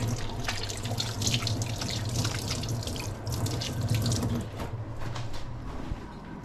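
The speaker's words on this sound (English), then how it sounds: "Just wash my hand quickly." Tap water runs steadily into a kitchen sink while hands are rinsed under it, a continuous close splashing rush with a few brief drips near the end, no talking.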